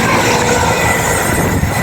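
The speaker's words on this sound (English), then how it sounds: "The train now approaching platform 2 does not stop here." An East Midlands Railway Meridian passes non-stop through a station platform at Market Harborough, a loud, steady rush of wheels and rail noise sustained throughout with no talk.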